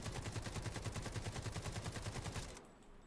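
Rapid automatic gunfire from the shooter game Delta Force Hawk Ops, a steady string of about twenty close, loud shots fired in one burst that stops abruptly near the end.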